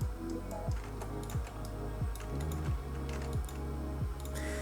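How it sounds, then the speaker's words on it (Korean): Mouse clicks and Enter key presses on a computer during 3D modeling in Maya, a crisp run of close, quiet clicks and taps repeating in a steady rhythm. "클릭 엔터, 클릭 엔터."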